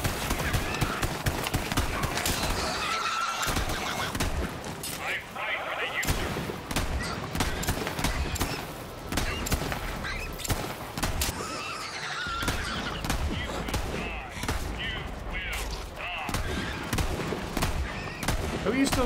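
Dense, rapid gunfire fills a Borderlands 3 firefight, with continuous bursts and volleys running almost unbroken throughout, mixed with other game effects.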